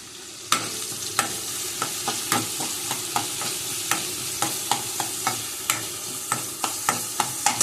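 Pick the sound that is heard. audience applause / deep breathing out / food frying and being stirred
food frying and being stirred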